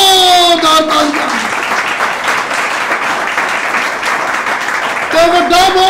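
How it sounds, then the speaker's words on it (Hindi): Church congregation applauding loudly at a Sunday service in Oman, sustained clapping of a crowd lasting several seconds, with a voice speaking over it at the start and end. "खुदावंद के लिए जोरदार तालियां।"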